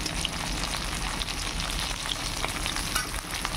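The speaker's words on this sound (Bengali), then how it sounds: "এবার মাছগুলিকে কড়াইতে দিয়ে দিয়েছি, মাছগুলি একটু ভাজি করে নিই" Fish fry in hot oil in a wok, a loud, continuous crackling sizzle with scattered sharp pops, close and steady from start to finish without any voices.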